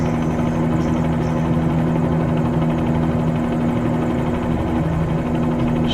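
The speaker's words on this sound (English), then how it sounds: "So we're just going to bring the chopper in over to the north side of the runways" A helicopter in Microsoft Flight Simulator 2020 comes in to land near the runways in Dubai, its rotor and engine making a loud, steady, droning thrum with a constant low hum and no talking.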